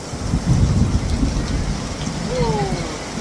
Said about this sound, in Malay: Dengan kilat, dengan guruhnya.